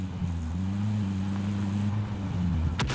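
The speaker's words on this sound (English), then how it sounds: "Chopper's hovering over you" A helicopter hovering in Call of Duty Warzone, a loud, steady droning engine and rotor hum that holds evenly and then cuts off abruptly at the end.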